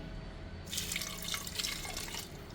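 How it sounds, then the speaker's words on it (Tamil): Water runs and splashes steadily into a pan after a brief quiet start, a continuous bright pouring hiss lasting about two seconds. "ஒரு அரை கிளாஸ் தண்ணி ஊற்றினா போதும்."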